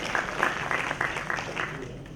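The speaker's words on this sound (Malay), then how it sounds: "Kita bagi tepukan" Audience applause at a university innovation and intellectual property award ceremony, a moderate burst of clapping in a hall, fairly soft and steady throughout.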